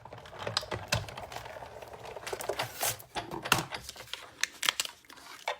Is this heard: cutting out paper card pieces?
yes